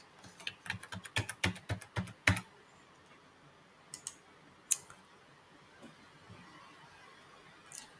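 Rapid keystrokes on a computer keyboard, a quick run of about ten clicks followed by a few scattered single taps against a quiet room, entering a file number into an online form.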